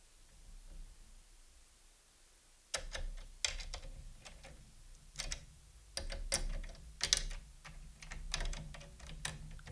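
Drum keys turning the tension rods on a floor tom during tuning, producing a series of small clicks, creaks and pops in irregular bursts, close up and fairly quiet against a low room hum.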